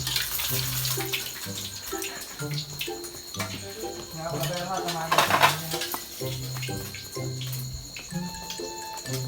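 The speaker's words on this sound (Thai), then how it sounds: "รีบไปเอาจานมาดิ" Plates and dishes clatter and clink in a kitchen during late-night fried-egg cooking, with running water from a tap and scattered tonal rings as pieces knock together, close and busy throughout.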